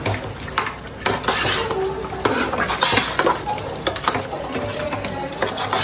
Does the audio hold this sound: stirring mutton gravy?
yes